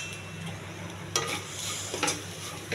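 Ivy gourd (dondakaya) stir-fries with salt and chili powder in a pan, a quiet continuous sizzle with a few crisp spoon scrapes and taps at irregular intervals, nearby and unaccompanied by speech.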